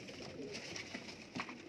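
Pigeons of a mixed pet flock coo softly in short, low, rolling calls, fairly close and alone without speech.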